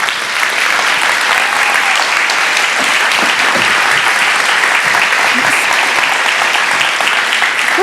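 A large festival audience bursts into loud, sustained applause that fills the whole stretch, a dense wash of clapping as a speaker is welcomed onto the stage.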